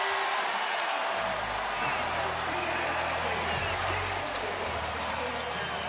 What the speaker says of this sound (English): This crowd is so ready to celebrate